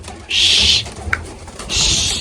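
Pigeons coo in a coop newly filled with birds, two loud, close bursts of cooing with a short gap and a faint chirp between them.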